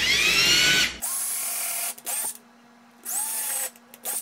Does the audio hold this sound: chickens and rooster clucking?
no